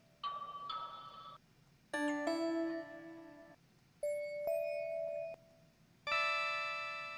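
Synthesized bell tones ring out in four separate sustained chords, each struck cleanly and held before fading, bright and metallic with no voices.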